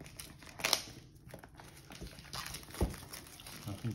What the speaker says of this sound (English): Nothing quite like finding your way through the wrapping.